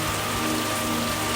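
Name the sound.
rain falling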